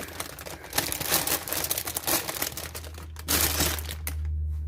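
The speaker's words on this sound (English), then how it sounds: "add the scissors and just cut this frozen spinach in here" Scissors cut into a cold plastic package of frozen spinach, producing loud crinkling, crunching and tearing close up, with a low hum coming in toward the end.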